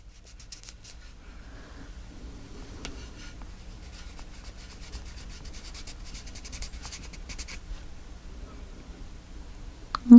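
Shiny plum-coloured medium is rubbed onto paper in a mixed media photo folio, giving faint, soft, scratchy strokes that repeat irregularly close by, ending with a brief louder bump.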